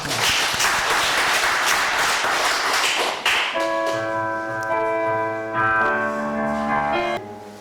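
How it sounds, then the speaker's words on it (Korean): A Korean church congregation claps after a prayer, with dense, lively applause for about three seconds that gives way to sustained organ-like chords. "우리 영광의 박수."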